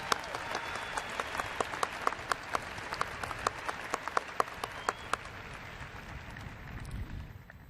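Audience at a university spring commencement ceremony applauds the governing board representatives, a distant, steady wash of many clapping hands in a large venue, with sharper individual claps popping out before it slowly thins.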